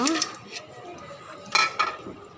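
A utensil scrapes and knocks against a metal cooking pot in a home kitchen, a few short clinks and scrapes, fairly quiet, with a low hum underneath and no clear talk.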